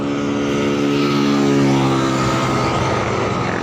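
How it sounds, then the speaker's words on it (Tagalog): A motorcycle runs steadily while being ridden along a road in Cavite, giving a loud, continuous engine drone with wind rush and no pauses. "ayan ang aking motor."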